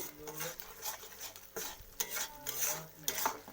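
A mustard-poppy paste with onion and green chili being sautéed in a pan for a prawn dish, with steady stirring scrapes and clinks of a utensil against the pan over a soft sizzle, close and unbroken, with no talking.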